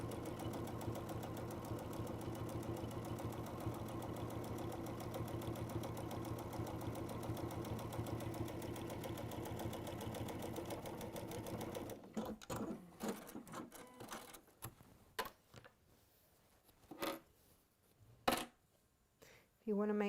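A sewing machine fitted with a walking foot stitches through several layers of fabric in a fast, even mechanical chatter that runs for about twelve seconds and then stops, followed by scattered clicks and handling noises.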